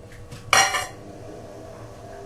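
A spoon clinks sharply against a pot while yoghurt starter is stirred into milk, giving one loud metallic scrape then a quieter tail and another clink at the end, with no talking.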